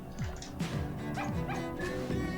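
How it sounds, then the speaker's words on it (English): A puppy in the video game Opoona gives a few short yipping barks and whimpering yelps in a rising, bouncy rhythm, close and clear over a busy game soundtrack. "So Bean and G-Bone were the two puppies that I found"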